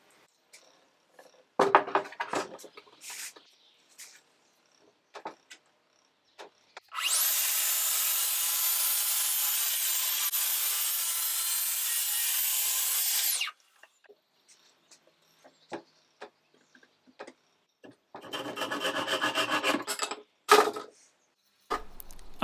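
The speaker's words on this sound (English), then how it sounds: "I'm going to cut a thin piece off and replace it with a solid piece of wood" A thin piece of wood is sawn for a bookcase repair, with a loud, continuous rasping stroke of about six seconds, a later shorter burst, and scattered handling knocks and rubs in between.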